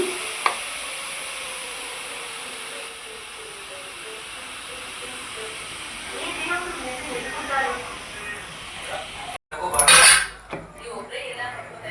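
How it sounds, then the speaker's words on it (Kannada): A pressure cooker on a high flame lets out one short, loud burst of hissing steam whistle near the end, following quieter kitchen clatter and sizzling. "ಈಗ ವಿಸಿಲ್ ಬಿಡ್ತಾ ಇದೆ"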